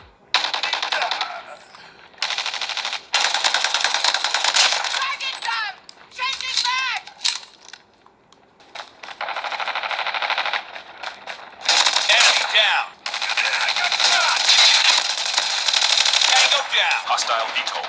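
Gunfire from the mobile game Call of Duty Mobile, played on a Google Pixel 10 phone, comes as rapid, loud automatic bursts and fire-fights with brief gaps between them. Game voices and effects are mixed in.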